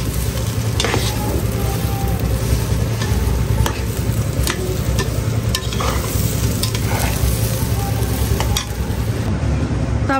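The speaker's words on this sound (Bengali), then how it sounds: "এই যে এখানে হলো আমি পোলাও ভাতটা রান্না করতেছি" Pulao rice cooking in a pot at a home kitchen, with a constant dense sizzle and a low rumble, sharp spoon scrapes and clicks popping through at intervals, loud and close without talk.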